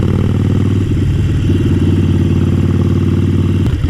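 Harley-Davidson Sportster 48 with a 1200 cc engine idling close by, a loud, steady low rumbling with an uneven lumpy pulse and a faint mechanical clatter on top, no voices.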